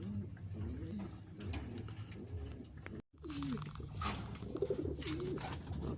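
Racing pigeons coo in low, repeated throaty calls, a flock close by arriving at the end of a 230 km race, with steady background noise and a brief dropout midway.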